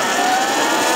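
A Surron X electric dirt bike motor is pushed to full throttle, giving a loud, close, sustained high whine that holds steady through a brief burst.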